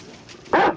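A hunting dog gives a single short, sharp bark, close and fairly loud, after a brief quiet lead-in.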